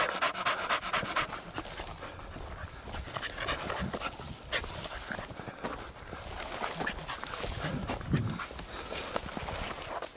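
A female hunting dog at a small-game hunting championship pants rapidly and rhythmically at close range, the quick breaths continuing steadily with small shuffles and movements mixed in.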